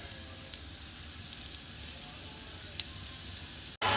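Onion and hot chili pepper stewing in garlic-infused oil for a spicy Asian soup, a soft, steady, close sizzle with faint crackles popping now and then, broken briefly by a clatter at the end.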